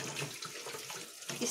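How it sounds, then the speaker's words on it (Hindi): Tap water pours into an aquarium filter tank, a steady hissing, splashing flow that stays close and runs without a break. "हम टंकी खोलकर इसके अंदर पानी चला देंगे"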